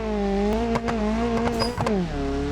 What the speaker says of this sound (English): From a standing start, just wheel spins up